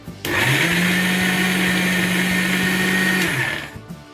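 A mixer grinder whirs loudly and steadily for about three seconds as it blends tamarind chutney ingredients with turmeric and chopped jaggery, starting abruptly and winding down at the end.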